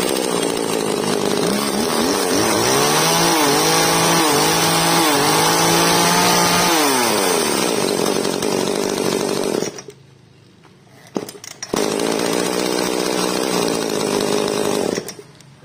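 A chainsaw runs loud and close, its engine revving up and down in waves, then cuts out abruptly. After a brief sputter it restarts and settles into a steady roar.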